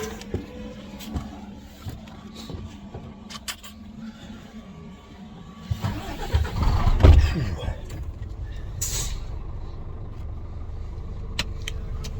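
A car pulls away hard from a standstill, its engine rising to a loud, rough surge with broadband tyre and road noise peaking midway, then settling to a steady drone.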